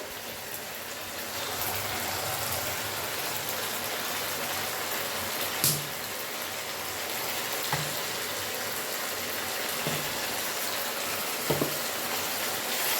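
Chili fish with chili sauce sizzles steadily in a pan, a continuous frying hiss throughout with a few soft scraping knocks from stirring near the end.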